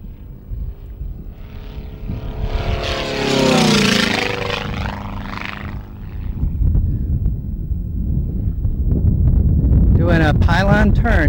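Racing airplane flying a pylon turn in a demonstration race at race altitude, its propeller engine rising to a loud, whining pass and fading, with wind buffeting the microphone and a rough burst of noise near the end.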